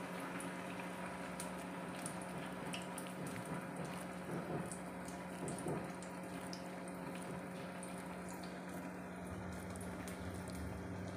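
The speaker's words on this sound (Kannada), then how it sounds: "ಹೀಗೆ ಇದನ್ನು ಈ ಎಣ್ಣೆಯಲ್ಲಿ ಹೀಗೆ ಬಿಡಬೇಕು." Vada frying in hot oil, a steady close bubbling sizzle that runs the whole time with crackling pops scattered through it, and no talk.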